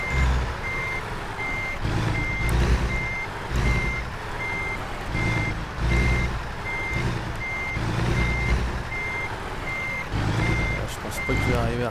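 Steady reversing beeps from a truck backing up in American Truck Simulator, a regular high alarm repeating at a fixed pace over a rumbling engine, with a few air-brake hisses near the end.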